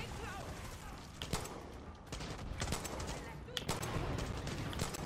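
Gunfire in Far Cry 6, bursts of rapid shots and sharp cracks layered over a dense, rumbling battle din, loud and close, with a voice talking over parts of it.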